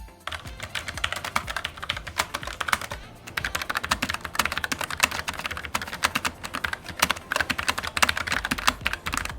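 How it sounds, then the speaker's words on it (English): Rapid, steady typing on a Logitech MX Mechanical Mini keyboard, crisp clacky keystrokes close to the mic with a brief pause partway through, no voices. "it has that satisfying tactile crunch when you type"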